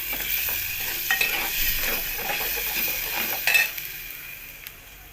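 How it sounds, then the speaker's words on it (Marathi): Freshly ground spice paste hits hot oil and sizzles loudly and steadily up close, with a couple of utensil clinks against the pan before the hiss eases off. "तर इकडे तेल छान असं गरम झाले आणि जे मी बारीक केलेलं वाटण होतं आता ते टाकते छान असं भाजून घ्यायचं वाटण्याला"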